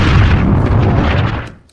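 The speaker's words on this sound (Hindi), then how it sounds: "फास्फोरस बम दाग दिया है इजराइल ने" A close, heavy explosive boom from an Israeli phosphorus bomb strike rumbles loudly for over a second, its deep roar thinning and fading out near the end.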